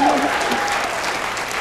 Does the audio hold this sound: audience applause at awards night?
yes